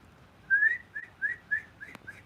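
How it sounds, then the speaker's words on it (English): A few short, breathy notes whistled by sucking air in, in quick succession, soft and airy, with a faint click partway through. "I do like a suck the air in whistle."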